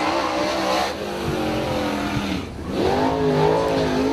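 Race cars at Dixieland Speedway roar past as they take the green flag, loud engines revving and droning with rising and falling pitch, a brief dip midway before the pack surges louder again.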